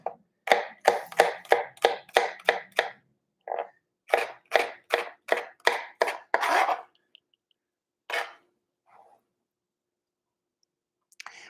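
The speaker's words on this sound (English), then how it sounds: "we're going to want this onion fairly small diced" An onion being finely diced with a knife on a board: quick, evenly spaced chopping taps in two bursts, then a few scattered cuts, close and crisp against silence.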